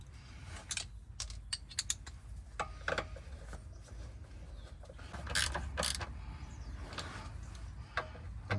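Bolts are tightened on a Porsche Cayenne air suspension compressor during a strip-down repair, heard as irregular metallic clicks and ticks from a tool, close up, with short bursts and pauses between them.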